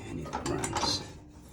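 A Samsung dryer motor spins its spring-loaded pulley, giving a brief, close mechanical whirring and rattling that fades out after about a second.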